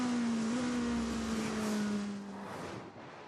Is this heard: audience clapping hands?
no